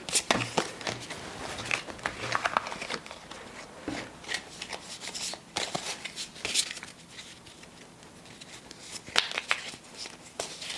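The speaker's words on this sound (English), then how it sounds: "See if I can shuffle better this time." Playing cards being reshuffled by hand between rounds of a solo Space Marine board game, Labyrinth of the Necrons, with repeated riffling and crisp flicking bursts close up over a quiet room, and intermittent talk.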